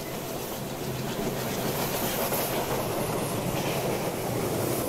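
A train runs on tracks in Train Simulator 2020, an Indian express from Rameshwaram to Kanyakumari, giving a steady loud rumble with clickety-clack and rushing noise throughout, with no talk.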